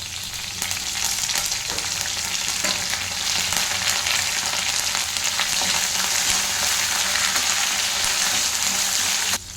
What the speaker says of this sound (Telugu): కొంచెం ఫ్రై చేసుకున్నాం ఎండుమిర్చి కొంచెం ఫ్రై అవ్వాలి